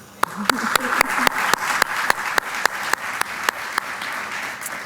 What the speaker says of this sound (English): I believe they have earned some good applause